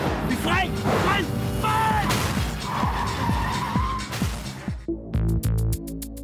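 A car brakes hard during a police chase, its tires screeching in long wavering squeals over engine roar, while a voice shouts urgently, and the skid ends in a sharp thump before a rhythmic clatter.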